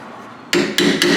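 A metal-ended screwdriver is struck with a hammer to knock rust off the rear brakes of a Dodge Dakota, three loud, close metallic blows in quick succession after a quiet start.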